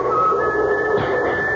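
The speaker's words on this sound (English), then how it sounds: "I heard someone whistling" An eerie whistle drifts through a radio-drama scene, a thin sustained tone carried over a muffled, filtered background, heard alone and fairly clearly for a moment.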